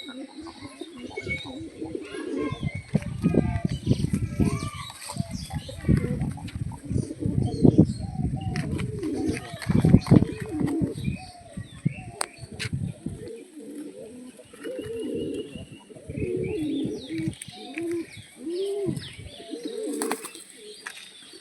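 Fancy pigeons cooing in a loft, several birds close by making layered throaty coos and soft chirps throughout, with faint wing flutters and brief murmured talk in the background.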